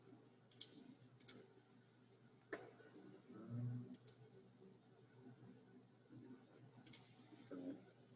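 A computer mouse gives sparse, crisp clicks in a quiet room while a day-trading desktop is set up for tape reading. About five sharp clicks sound at irregular intervals with faint handling noise between them.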